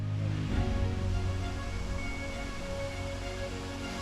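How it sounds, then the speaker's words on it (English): Jeco Waterfalls in northern Ontario rushes as a steady, dense broadband roar that stays even and continuous throughout, close and loud, with no voices. "there it is, the beautiful Jeco Waterfalls"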